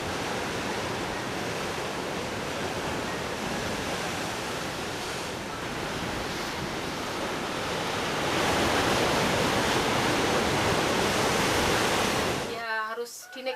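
Ocean waves crash and surge steadily against the rocky Grigak cliff coast, a dense roar that swells louder partway through before a voice briefly cuts in at the end.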